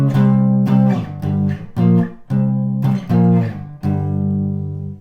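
Loud guitar playing a riff up close: chunky sustained chord stabs in the familiar stop-start pattern, each phrase separated by brief gaps, with no voices over it.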